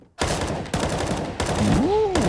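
Counter-Strike gunfire on the Dust2 map during a professional tournament match, loud rapid bursts of rifle shots in quick succession, with game sounds layered under the shooting.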